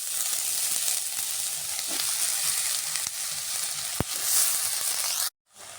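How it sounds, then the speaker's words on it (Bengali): Water lily stems frying in a wok make a steady sizzle with a few sharp clicks and stirring noises, then cut off abruptly near the end. "তো কড়াইতে এখন আমি ডাটাগুলো দিয়ে দেবো।"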